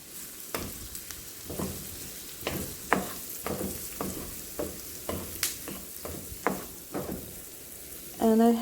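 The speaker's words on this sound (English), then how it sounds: "So to the hot oil, I'm going to add my onion" Onion sizzles steadily in hot oil in a pan over medium heat, with repeated scraping and stirring knocks from a utensil, close and fairly loud.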